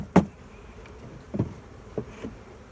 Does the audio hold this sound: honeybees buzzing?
yes